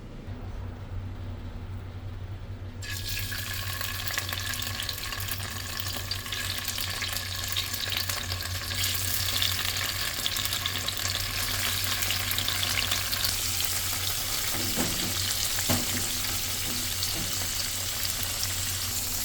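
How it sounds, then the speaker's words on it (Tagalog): Tofu fries in hot oil in a pan, a steady crackling sizzle that swells a few seconds in and keeps going loud and close, with a brief stir partway through. "Magprito po tayo ng tofu."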